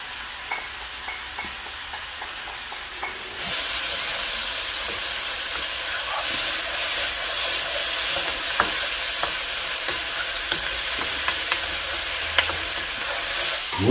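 Onion, red pepper and tomato fry in a pan for butter chicken, a loud steady sizzle jumping up as the vegetables go in, with scraping stirs and spoon taps over the hiss, close and without talk.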